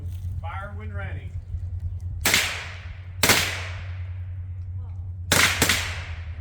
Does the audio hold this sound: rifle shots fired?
yes